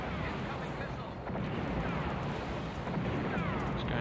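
Missiles bursting against a convoy in the PS1 helicopter game Black Dawn, heard as a dense, continuous rumble of blasts and crackling debris at steady loudness for several seconds, with no clear gaps.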